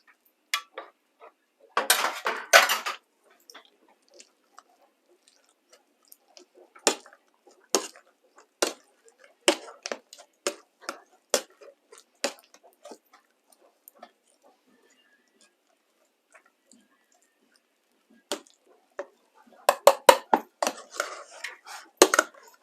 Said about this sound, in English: Okay, so just give that a stir and make sure it's all mashed in nicely.